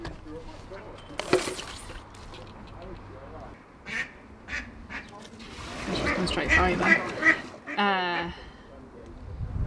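Ducks quack near a boat in a few scattered, nasal bursts, with one clear run of rapid quacks toward the end, while a person talks intermittently nearby.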